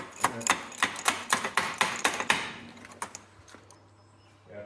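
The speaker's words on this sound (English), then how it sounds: "just get the freaking hammer and smack it out" Sharp metallic knocks strike in a quick, even series, about a dozen hammer blows knocking out a Toro mower spindle, then slow and stop.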